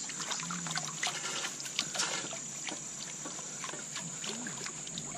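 Camping cookware being washed in outdoor water, with continuous splashing, trickling and sloshing at close range and small clinks mixed in, steady throughout.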